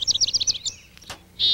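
A chickadee at a backyard feeder gives a quick run of five or six clear, high whistled notes, then a short pause and one longer high note, close and fairly loud.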